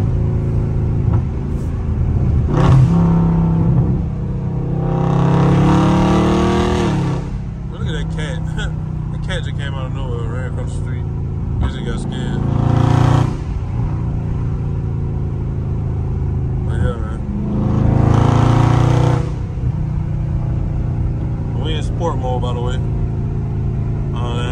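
A Dodge Scat Pack in low gear roars through repeated hard pulls, its engine surging loudly in several bursts over steady road and cabin rumble, with people talking in between.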